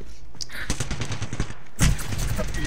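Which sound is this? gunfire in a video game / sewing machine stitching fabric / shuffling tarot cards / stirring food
gunfire in a video game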